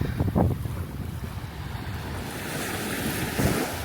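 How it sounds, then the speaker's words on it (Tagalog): Ocean waves wash continuously onto an empty beach with mountains in view, a steady surf roar mixed with gusty wind buffeting the microphone, with no voices. "The sound of that waves is very relaxing"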